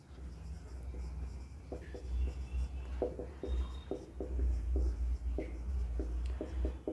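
Writing out a method during a digital electronics lecture, heard as a series of short, light strokes and taps that come in irregular bursts over a steady low room hum, with no talking.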